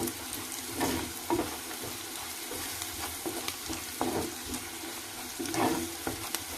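Chopped onions fry and sizzle in a clay pot, with a spoon scraping and stirring in repeated strokes over a steady, fairly quiet hiss; no talking.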